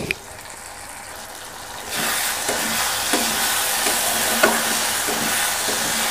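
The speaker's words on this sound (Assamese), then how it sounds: "এতিয়া গোটেইখিনি মিক্স কৰি ভাজি লওঁ 5 মিনিটমান কণীটোৰ সৈতে বিলাহীখিনি ভাজিম" Egg and tomato fry together in a pan at home, a steady broadband sizzle that jumps louder after a quieter start, with a few soft stirring scrapes in the mix.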